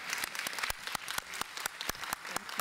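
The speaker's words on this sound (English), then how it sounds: "can we also give a round of applause to Groove" An audience at an internet governance panel applauds the organizer: a steady patter of many hands, with sharp individual claps standing out close by over a busy wash of clapping.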